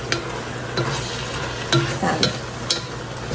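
A spatula turns browning cabbage in a frying pan of cabbage, noodles and sausage just after the heat is switched off: soft sizzling underneath, broken by several distinct scraping strokes and clacks, close up and with no talk.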